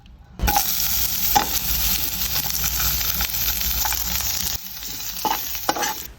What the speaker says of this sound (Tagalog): ngayon naman ay gigisa na natin